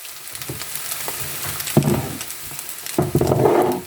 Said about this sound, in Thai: ขอโทษทีนะคะเสียงดังกึ๊กักกึ๊กักไปหน่อยเนาะ